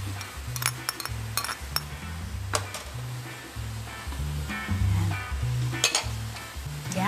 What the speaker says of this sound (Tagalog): Itusta muna natin ang ating giniling.